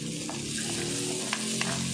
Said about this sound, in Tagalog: Isusunod po natin yung ating sibuyas.